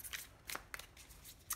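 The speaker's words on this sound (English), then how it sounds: "as I shuffle and I wait for one to pop out" Tarot cards being shuffled by hand give short papery riffles and soft flicks in a few quick bursts, close and quiet with no talking.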